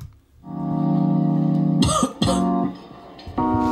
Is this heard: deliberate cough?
yes